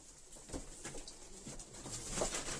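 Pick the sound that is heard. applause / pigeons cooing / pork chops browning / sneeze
pigeons cooing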